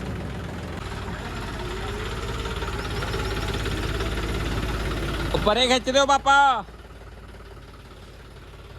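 A tractor fitted with a rear rotavator idles with a steady, low diesel rumble, and a voice calls out briefly near the end.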